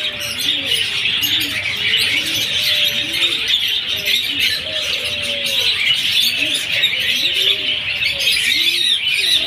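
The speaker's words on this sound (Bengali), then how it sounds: "কিচির মিচির ডাকে আমি পাগল হয়ে যাচ্ছি গো" Several pigeons coo in repeated low, rounded phrases while smaller birds chirp and twitter steadily above them, close by and continuous, at a pigeon and bird-feed shop.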